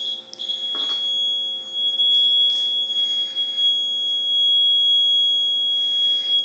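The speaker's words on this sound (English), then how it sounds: "here's a little piezo buzzer. This is a 12-volt buzzer." A small 12-volt piezo buzzer running off an aluminum air battery gives a continuous high-pitched steady tone that holds throughout, close and alone, with faint handling bumps near the start.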